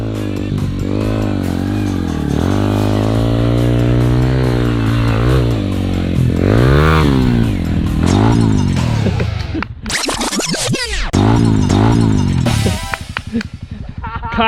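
An enduro dirt bike revving on a training track, the engine note rising and falling in repeated loud close throttle bursts with a harsher rasp near the end and brief voices.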